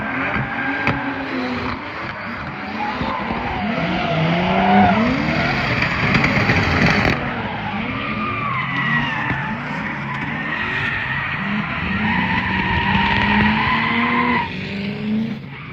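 A car slides past at a Drift Factory Matsuri drift event, tires squealing in long wavering screeches over a loud engine that revs and swells as it passes close by, sustained for the whole stretch.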